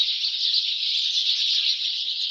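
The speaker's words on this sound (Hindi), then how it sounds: "ये देखें किस तरीके से माशाल्लाह से चिड़ियाँ हैं" Dense, continuous chirping from a large flock of house sparrows, hundreds of small birds gathered at a home, a loud, steady high twittering chorus with no pauses and no voices.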